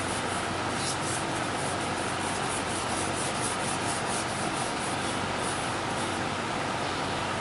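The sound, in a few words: applying lacquer-based sanding sealer to a turned wood platter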